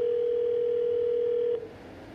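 Fake ringing early audio on a VoIP phone call: a steady, single-pitched tone held for about a second and a half, then cutting off to quiet line noise.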